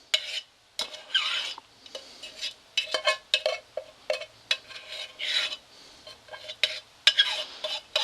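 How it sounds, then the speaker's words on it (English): A fork stirs cheese sauce for trail mac-n-cheese in a pot, scraping and swishing in close, uneven strokes separated by short quiet gaps. "I mixed up the cheese sauce with the fork end"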